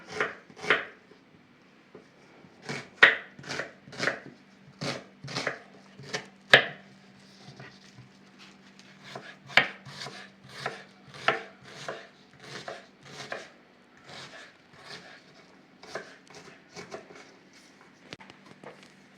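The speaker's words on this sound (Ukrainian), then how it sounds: "Цибульку нарізаємо дрібненько" Quick, steady knife chops finely cutting onion on a cutting board, dozens of crisp taps in bursts, close and fairly quiet with brief pauses.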